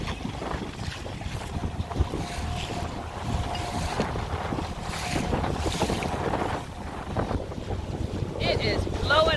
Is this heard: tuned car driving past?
no